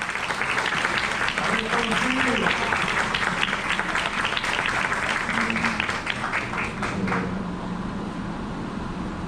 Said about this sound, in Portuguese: Uma salva de palmas para o Dr.